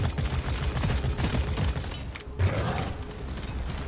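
Gunfire in the video game Deep Rock Galactic, a dense stream of rapid shots with mechanical clatter, briefly cutting out midway before resuming, loud and close with no voices.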